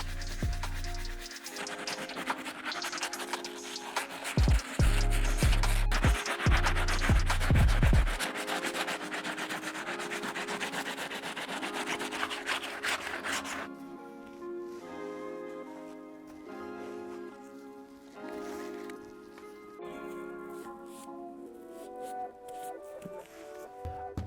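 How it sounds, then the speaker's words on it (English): Stiff bristle brush scrubbing an Air Jordan 4 Fire Red sneaker during pre-cleaning, giving a steady, close rasping rub that runs loud through the first half, then a quieter stretch with music underneath. "let's go ahead and get on our stiff bristle brush"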